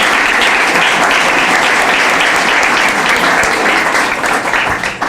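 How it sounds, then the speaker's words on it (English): Sustained audience applause at the 2022 Windsor Shad Derby gala, a loud, dense wash of clapping from a crowd that carries steadily throughout and tapers slightly near the end. "Can we please have another round of applause for these wonderful young ladies?"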